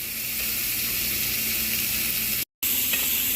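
Roughly six strips of chopped bacon sizzle and spit steadily in a hot pan as they brown for a loaded cauliflower dish, a continuous close frying hiss broken by one short gap of silence.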